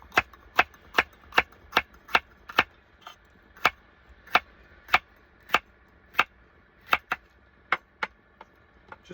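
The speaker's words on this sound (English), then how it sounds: "what we're going to do is just going to cut up some green peppers" A knife chops green peppers into thin slices on a board, producing about twenty crisp, regular taps close by and alone, with brief gaps between strokes.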